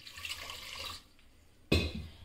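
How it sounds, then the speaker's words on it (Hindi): Water poured into a pressure cooker holding eggplant pieces, a close splashing pour that stops briefly before a second louder gush. "पानी डालूंगी।"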